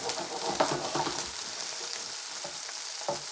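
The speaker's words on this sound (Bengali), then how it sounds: "চিংড়ি মাছটা একটু তেলের উপরে ভেজে নিব।" Prawns fry in hot oil with a close, steady sizzle and a few soft stirring clicks, and no talking.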